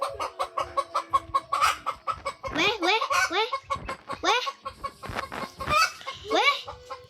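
Chicken clucking in the video game Roblox comes in quick, repeated bursts, mixed with voices talking and exclaiming close by.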